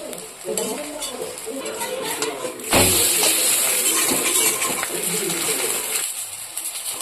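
Carrot batter poured into hot oil in a pan for a thick flatbread, a burst of loud sizzling that then settles into steady close frying with some stirring scrapes.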